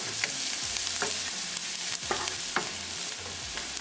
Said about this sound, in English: Cooking onion for 3 minutes. Add ginger and green chili.